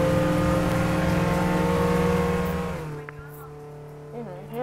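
Bugatti car driving in the Roblox game Jailbreak, a loud steady engine drone with tonal hum for about three seconds, then dropping off to a quieter rumble with brief squeal-like tones.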